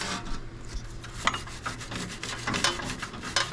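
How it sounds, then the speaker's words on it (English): A small dollar-store scrub brush scrubs during cleaning work on a 1955 Chevy Bel Air, giving a steady, close, rasping rub with irregular bristle strokes and a few sharper accents. "Good to have in hard to reach areas where you just need a little extra scrubbing"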